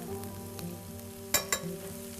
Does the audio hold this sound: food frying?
yes